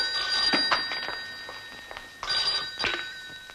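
An old-style telephone bell rings indoors in two loud bursts separated by a short pause, with no one speaking over it.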